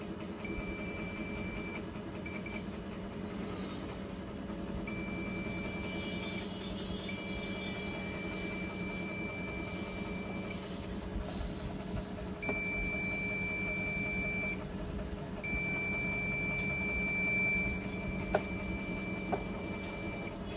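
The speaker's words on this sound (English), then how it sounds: "Long beeps mean a possible short circuit." A multimeter in continuity mode beeps while testing a shorted capacitor on a Hisense Smart TV board, giving a series of high, steady electronic tones, some short and some held for several seconds, over a constant low electrical hum.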